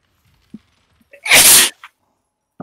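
A single sharp sneeze bursts out close by during a tabletop game session, preceded by a quick intake of breath and followed by faint small sounds in an otherwise quiet room.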